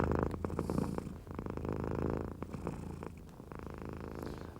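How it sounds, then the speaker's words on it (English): Cat purring loudly and close, a deep rumbling purr in steady rhythmic cycles with short pauses between breaths. "your cat is paddling away on your chest at the same time as purring very loudly"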